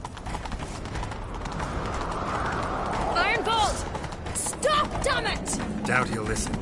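Horse galloping in the video game Witcher 3, a steady clip-clop of hooves running throughout with game music and voices talking over it.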